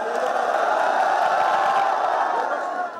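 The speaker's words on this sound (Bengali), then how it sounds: "মুহুর্মুহু করতালি আর স্লোগানের মাধ্যমে ফলাফল ঘোষণা উদযাপন করেন ঢাকা বিশ্ববিদ্যালয়ের শিক্ষার্থীরা" Dhaka University students in the Senate Auditorium celebrate the announced results of the 38th DUCSU student union election, a dense, loud crowd roar of cheers and shouts that stays steady throughout.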